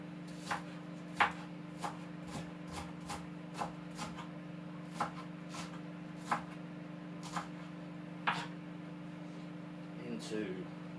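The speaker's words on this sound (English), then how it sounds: "So once we cut the root and the very ends off," A knife chopping spring onions in a home kitchen, roughly a dozen evenly spaced, crisp taps on a board over a constant mechanical hum.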